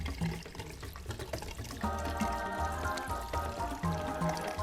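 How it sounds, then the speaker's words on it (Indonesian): Tap water running steadily while a Brazilian turtle is washed, a continuous pouring stream that grows fuller partway through, with no voices. "Kita coba di air mengalir aja."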